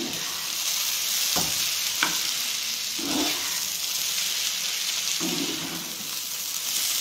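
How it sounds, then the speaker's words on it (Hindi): Leftover-rice fried rice with mint leaves and garam masala fries in a hot pan, giving a loud, continuous sizzle broken by a few spatula strokes as it is stirred. "गरम मसला और पुदीना पत्र को टिके भल से मिक्स करदबा"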